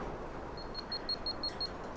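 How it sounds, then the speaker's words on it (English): A Legend 1 action camera beeping as it powers off: a quick series of about eight short, high electronic beeps in a regular rhythm, faint and close, with no talk. "and we get lots of beeps."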